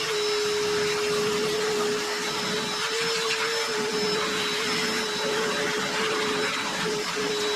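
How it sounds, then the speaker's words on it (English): Vacuum cleaner running steadily throughout while cleaning out the engine bay of a squarebody truck with its cab removed, a constant loud whine with a high tonal hum and no talk. "I'm going to vacuum this out real quick though, so none of this falls into the motor"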